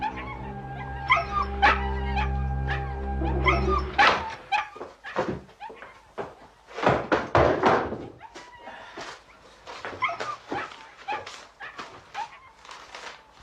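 A dog barks and whimpers near a house, sharp irregular barks scattered over a low humming background, with thuds and slams mixed in and a voice speaking over part of it.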